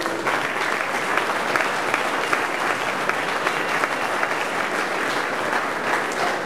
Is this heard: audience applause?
yes